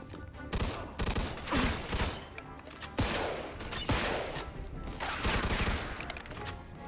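Rapid gunfire from a firefight in the video game Mafia 2 Definitive Edition, with dense bursts of shots cracking steadily throughout, loud and close, with brief pauses between volleys.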